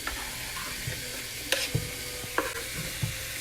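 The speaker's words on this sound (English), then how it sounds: "So let's add our garlic and our onion into the pan." Garlic and onion hitting a hot pan, a moderate sizzle that runs throughout, broken by a few sharp utensil knocks and clatters.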